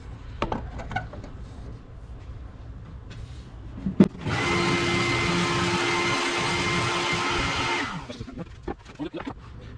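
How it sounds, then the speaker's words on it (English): A drum sander grinds against plywood for a few seconds, a loud steady whirring roar that starts abruptly after some quiet shop knocks and cuts off cleanly, followed by light handling clatter. "as you sand, you don't need a ton of pressure pushing the plywood into the drum"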